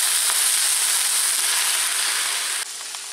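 Loud, steady hiss of vegetables with tomato sizzling in a pan, dropping abruptly in volume near the end, with no talking.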